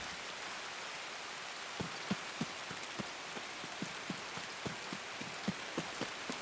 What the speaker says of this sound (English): I'm talking louder because of the rain.